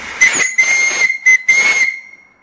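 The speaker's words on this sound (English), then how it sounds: "Little whistle here. Really nice brass whistle." Small brass whistle on a live steam boiler running at about 90 to 100, blowing a bright steady tone in several close, loud bursts that stop and restart, ending in a long sustained blast that fades out with a breathy hiss.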